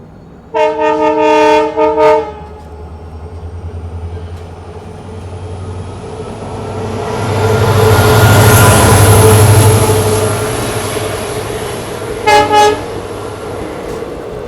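Humsafar Express train horn blasts loudly in a short burst, then a long rumble as the train runs through Assam, swelling and fading, before a second brief horn burst near the end.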